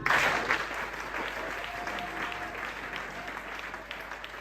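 A church congregation applauds, a dense patter of clapping that is loudest at the start and slowly thins out, with faint voices mixed into the crowd noise.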